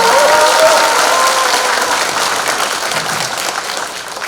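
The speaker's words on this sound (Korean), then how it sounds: "큰 박수 부탁드립니다." Loud, dense audience applause fills a political rally hall, a sustained roar of clapping that tapers slightly toward the end.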